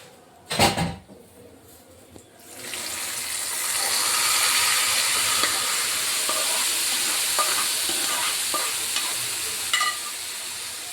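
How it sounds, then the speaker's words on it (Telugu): Ground tomato chutney sizzles steadily on a low flame in a pan after a tempering is fried, with a sharp clatter of the paste going in at the start and soft stirring scrapes over the continuous frying hiss. "ఇప్పుడు మంటని లో ఫ్లేమ్లో పెట్టి ఈ పచ్చడిని బాగా మనం వేపుకోవాలండి"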